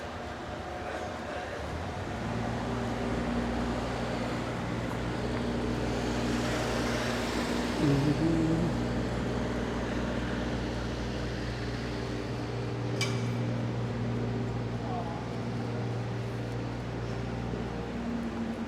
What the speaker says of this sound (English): Turned away from the roadworks, a bit noisy.